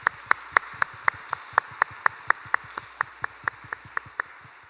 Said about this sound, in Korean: 하나님께 감사와 영광의 박수 올려드립니다.